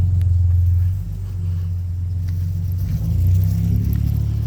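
A car passing on a road during a Saturday morning dog walk, a loud, close, steady low rumble that swells and continues throughout the clip.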